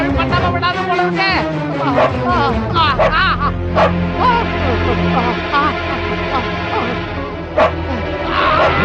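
Dog barking and yipping in a Tamil film scene, several sharp barks and whimpers mixed over music and people talking throughout.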